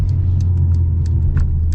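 A deep, steady engine rumble from inside a 2023 Mercedes-AMG CLA 45, with faint ticking and clicking sounds over it.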